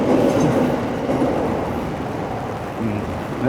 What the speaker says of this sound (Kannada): ಇಲ್ಲಿ ಟ್ರೈನ್ಗಳಿಗೆ ಓಡಾಡ್ತಾನೇ ಇದೆ